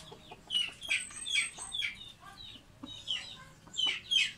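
A sweater blue-leg hen in a backyard coop gives a series of short, fairly close clucks in an irregular rhythm over quiet surroundings.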